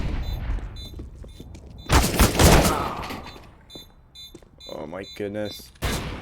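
Counter-Strike gunfire during a competitive ESEA match, with a dense burst of loud rapid shots in the middle, a few scattered shots around it and a final crack at the end, under excited commentary.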